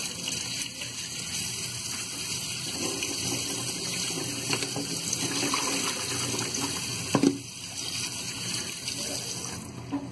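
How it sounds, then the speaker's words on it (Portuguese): Tap water runs steadily into a sink while items are rinsed under it, a constant close splashing flow with faint handling noises and a brief louder knock near the end. "Primeiro eu lavo tudinho. Passa uma água, né?"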